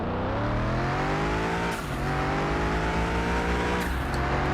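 BMW 3 Series launching hard in Car Mechanic Simulator 21, its engine note climbing steadily in pitch before two quick gear shifts break the rise, loud and continuous with no talk.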